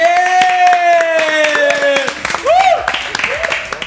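Hands clap in quick, crisp bursts at a gaming match event, close and loud, mixed with a high, animated voice.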